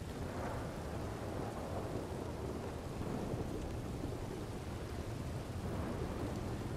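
Steady rain falls through a thunderstorm, with a continuous dense hiss and low rumbling thunder rolling underneath, even and moderately faint throughout, with no one talking.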